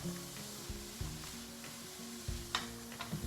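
Chicken pieces sizzle steadily in hot oil in a pan, browning without seasoning, with occasional louder pops and stirring clatters over a constant frying hiss; no talking.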